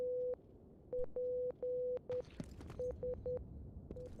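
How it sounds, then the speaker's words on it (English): Morse code beeping in a video game, where a body lies nearby: steady short and long tones of one pitch in an irregular dot-dash rhythm, fairly loud over faint background noise. "I'm hearing that Morse code thing."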